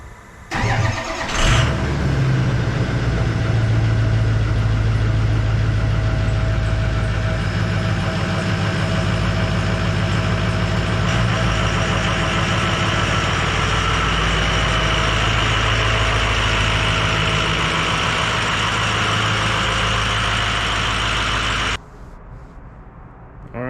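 A truck engine cranks and catches, then settles into a steady, loud, low idle rumble that runs for about twenty seconds at a site being prepared for concrete before cutting off.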